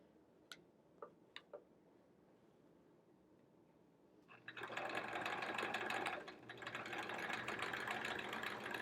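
A domestic sewing machine free-motion quilting through a sampler quilt's border edge, starting after a few faint ticks and running as a steady, close, loud mechanical whir with a rapid stitching pulse for several seconds.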